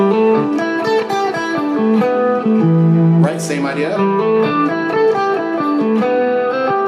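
Guitar notes ring out over a sustained suspended chord, with a brief strummed flourish midway and a voice speaking briefly over the playing.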